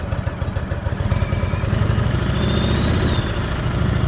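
A motorcycle engine runs steadily at low revs while held under clutch preload during slow-speed riding practice, a close, even throbbing idle that firms up slightly partway through.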